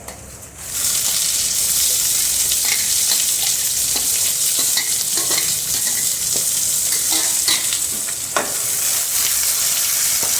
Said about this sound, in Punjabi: ਪਿਆਜ਼ਾਂ ਨੂੰ ਆਪਾਂ ਸੁਨਹਿਰੀ ਜੇ ਕਰ ਲਵਾਂਗੇ